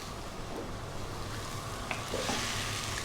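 Food frying in a pan over high heat, a dense, even sizzle up close with faint stirring clicks and scrapes scattered throughout.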